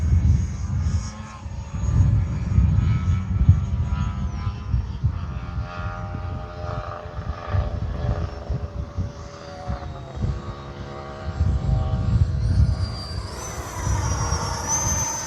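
Freewing F-22 Raptor 80mm electric ducted fan RC jet in flight on a windy day, a steady loud whooshing whine that rises and falls as it passes, with a high tone climbing near the end.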